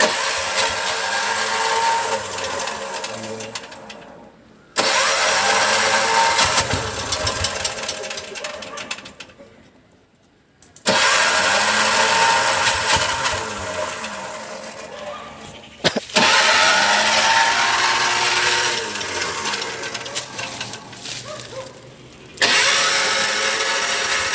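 Worn-out Piaggio Ape auto-rickshaw engine cold-starting after sitting three years, loud and close, with repeated rough running bursts that cut out and restart, revving unevenly over voices.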